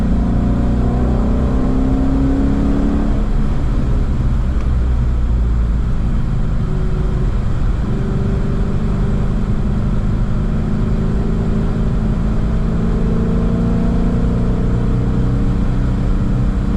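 A Shelby car engine on a race circuit revs hard and close with its exhaust valves open, a loud, raspy exhaust note rising and falling continuously throughout.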